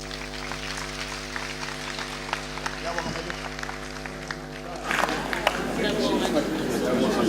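Political conference crowd applauding in a large hall, a steady wash of clapping that swells louder toward the end, with a low hum and some voices underneath.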